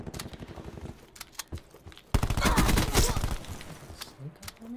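Gunfire in the video game Call of Duty Black Ops 4, with rapid loud bursts of automatic shots and a sustained heavy volley midway, close and punchy over game background noise.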